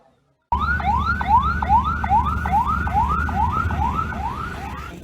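An ambulance siren wails loud and close in a fast repeating rising yelp over a low rumbling engine, starting abruptly after a brief silence.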